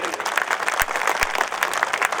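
Audience applause at a mushaira in a university hall, a brief dense burst of clapping from a seated crowd, steady and fairly loud throughout.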